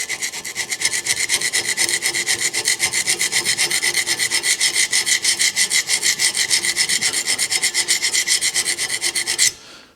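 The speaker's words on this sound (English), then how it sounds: "you want to take a file or something and clean that up, get those nice and flat again" A hand file scrapes rust off a brake caliper bracket on a 1996 Ford, in fast, even back-and-forth strokes, loud and close, continuing steadily for several seconds before stopping abruptly.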